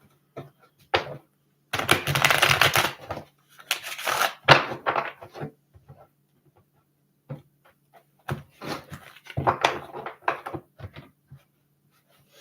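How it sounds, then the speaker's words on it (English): Thoth tarot cards being shuffled by hand, close and dry, with bursts of riffling and snapping cards separated by quiet pauses. "I'm going to shuffle one more time."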